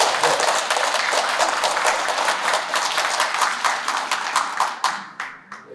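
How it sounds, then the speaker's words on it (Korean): Audience applause at the opening ceremony of an art exchange exhibition, dense steady clapping from a crowd that thins out and trails off into a few scattered claps at the end. "지역의 중심에서 문화예술 중심으로 라고 선언을 하신 박상돈 시장님께 박수를 안 보낼 수가 없어요."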